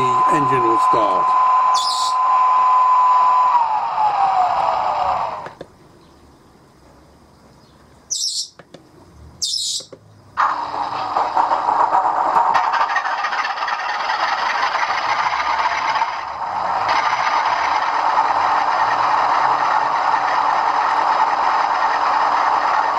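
A model railway Class 37 diesel sound unit plays a tonal primer hum that falls in pitch, drops to near silence with a few brief chirps, then the engine starts and settles into a steady droning idle.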